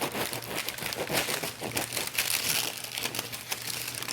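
A knife saws through the crisp, crusty crust of a freshly baked four-ingredient no-knead loaf, giving steady crackling and crunching close up for about four seconds.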